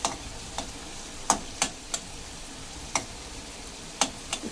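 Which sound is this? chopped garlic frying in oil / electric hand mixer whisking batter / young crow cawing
chopped garlic frying in oil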